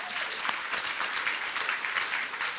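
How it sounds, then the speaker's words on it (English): A short burst of audience applause for a guest on a podcast-style show about selling ebooks, dense steady clapping from a small group, fairly quiet and even throughout. "we'll give it a round of applause"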